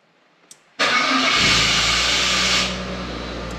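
A taxi's car engine starts on the starter: a brief click, then a loud sudden catch into steady, close revving that holds for about two seconds before easing to a slightly lower idle.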